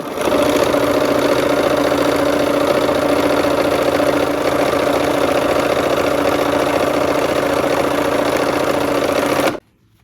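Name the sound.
sewing machine sewing quilt seams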